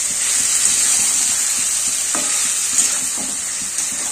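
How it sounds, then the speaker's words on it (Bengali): Mutton fries in hot oil in a kadai, giving a loud, continuous sizzle, with repeated scraping and clinking from a spoon stirring the meat against the pan. "খালি মটনটা ভাজছে"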